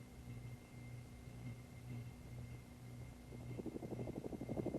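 Helicopter running in the field near a ground crew: a steady rotor and engine drone with a tonal hum, swelling into louder rhythmic blade thumping toward the end, with no talk.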